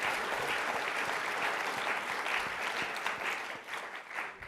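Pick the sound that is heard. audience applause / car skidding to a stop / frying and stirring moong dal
audience applause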